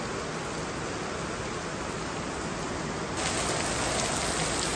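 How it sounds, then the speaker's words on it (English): Heavy rain pounds steadily on a workshop roof, a dense continuous roar that swells a little louder near the end, with no voices. "serious rain now."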